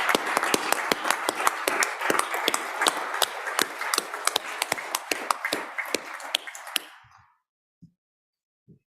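Scattered applause in a state Senate chamber, a modest group of distinct sharp hand claps in an uneven rhythm that stops abruptly, followed by near silence with a couple of faint knocks.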